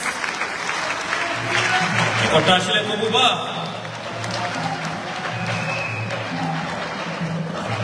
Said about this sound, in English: Give him a very big round of applause.